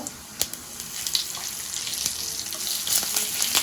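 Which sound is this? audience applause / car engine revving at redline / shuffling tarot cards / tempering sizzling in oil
tempering sizzling in oil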